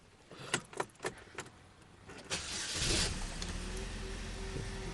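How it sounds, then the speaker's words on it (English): A 2011 Chevrolet Malibu LT with a 4-cylinder engine is started. A few light clicks and jingles come first, then the engine cranks with a rushing burst and settles into a steady, low idle hum, close by. "So I'm going to start the car."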